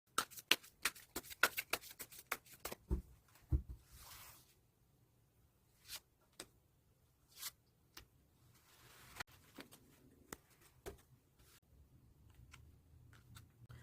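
Tarot cards handled and shuffled in a sequence of crisp, quiet rustles and flicks, quick bursts at first, then scattered single snaps and slides as cards are drawn, close up with no voices.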